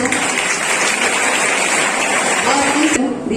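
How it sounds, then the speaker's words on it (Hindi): A school oath-taking ceremony audience gives loud, dense applause for a former head boy, a continuous broad clatter of many hands that ends abruptly near the close, with a voice faintly underneath. "इनके लिए जोरदार तालियां हो जाए"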